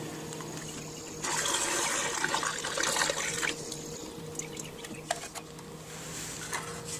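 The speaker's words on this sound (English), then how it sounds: "Next, we'll pour the gasoline out into a fuel save container." Gasoline poured from a small Briggs and Stratton engine's removed fuel tank into a fuel container, a steady liquid trickle and splash lasting a few seconds, close and moderately loud with a brief stronger pour in the middle.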